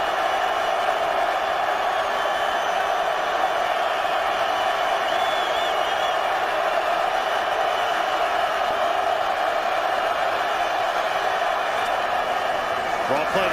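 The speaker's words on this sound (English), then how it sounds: "Here comes the crowd again." Stadium crowd noise at a Seattle Seahawks home football game against the Atlanta Falcons, a dense, continuous roar of cheering fans holding steady and loud from start to finish.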